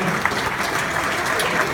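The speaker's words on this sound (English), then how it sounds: "I want you to applaud everybody here." Brief burst of steady applause from the audience at a boxing Hall of Fame induction, many hands clapping at once in a full, even wash of sound.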